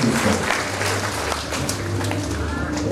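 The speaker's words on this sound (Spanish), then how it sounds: "Fuerte aplauso para él" Applause for a parish priest at a chapel inauguration in Huehuetenango, a lively mix of clapping and crowd noise with voices mingled in, brief and moderately loud throughout.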